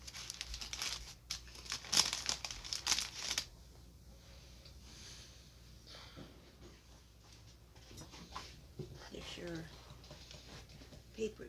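A paper towel is crumpled and crinkled in short bursts of crackling near the microphone, strongest early and then fading to soft rustles.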